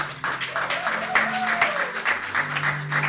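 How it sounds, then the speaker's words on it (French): Church congregation applauding and cheering in praise during a French-language sermon, a dense steady wash of clapping hands with voices and a sustained organ or keyboard chord underneath. "Si on peut acclamer le Seigneur pour ça."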